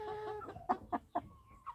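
Clucking from a flock of 3.5-month-old chicks of mixed breeds, young roosters among them, with several short, sharp clucks spaced apart over a soft tonal call, close and moderately loud, with no talking.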